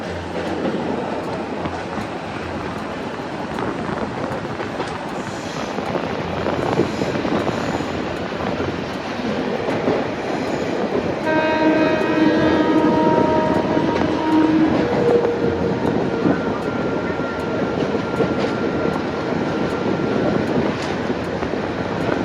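The Dhaka–Narayanganj commuter train rolls along with a steady, loud rumble and rattling wheels. A horn blast sounds midway, and the train keeps running unbroken, with no speech.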